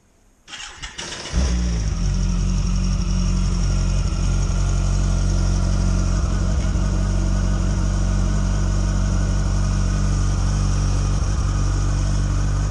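A car engine in Sweden cranks briefly and catches, then settles into a loud, steady idle close by with no talking.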